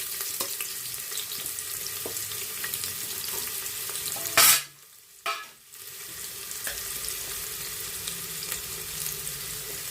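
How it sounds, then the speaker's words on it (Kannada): Chopped onion frying in hot oil in a cooker, giving a steady, dense sizzle that suddenly surges, drops away for a moment, then returns as a continuous crackle close by. "ಆಯಿಲ್ ಬಿಸಿಯಾಗಿದೆ. ಇವಾಗ ಇದಕ್ಕೆ ಒಂದು ಸಣ್ಣದಾಗಿ ಕಟ್ ಮಾಡಿ ಇಟ್ಕೊಂಡಿದ್ದ ಆನಿಯನ್ ಹಾಕೋಣ."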